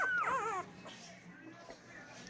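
A newborn female merle puppy gives a brief, high, wavering whimper up close, then falls quiet against faint room noise.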